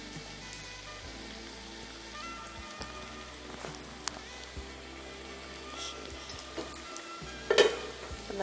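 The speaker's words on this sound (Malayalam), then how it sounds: "അത് പച്ചമുളകും വെളുത്തുള്ളി തേങ്ങയൊക്കെ ഒന്ന് മൂത്ത് വരട്ടെ" Green chilli, garlic and grated coconut frying in a pan, a soft continuous sizzle with occasional spoon scrapes and clinks against the pan, with quiet talk over it.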